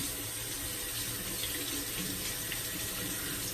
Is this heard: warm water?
yes